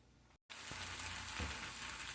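Orange and red peppers fry in a pan with a steady close hiss of sizzling. The sizzle starts after a brief silent gap and then carries on evenly throughout.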